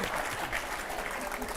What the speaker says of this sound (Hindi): तालियां हो जाए एक बार जोरदार तालियां हो जाए।